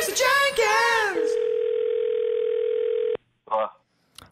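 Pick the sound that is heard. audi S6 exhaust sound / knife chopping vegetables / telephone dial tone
telephone dial tone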